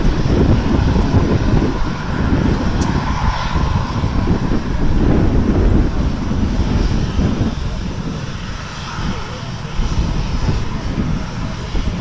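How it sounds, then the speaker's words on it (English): Ryanair Boeing 737-800 jet taxiing at Manchester airport, a loud, steady engine roar with rumbling low end, continuous and close throughout, with gusty wind noise on the microphone. "The taxi out there to the left, you can see Ryanair's flight 543, Boeing 737-800 on its way to Nantes."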